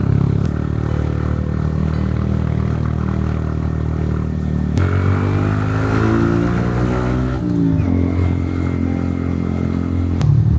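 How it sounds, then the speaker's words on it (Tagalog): A Yamaha MT15 motorcycle engine pulls steadily uphill on a mountain road, droning near and constant, with a gear change and a rise in revs partway through and no talk. "Buti na lang malakas yung ating motor, the Master of Torque."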